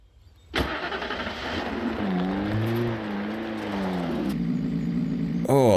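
A car engine in Alan Wake cranks and catches after a short silence, then settles into a steady idling hum with a slight revving rise, close and loud, ending in a sharp burst of noise.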